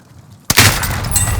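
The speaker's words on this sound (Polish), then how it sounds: "Wali snajpo, wali snajpo." A sharp, loud sniper rifle shot in a video game cracks out suddenly, followed by sustained noisy rumble and a brief thin whine, like game gunfire up close.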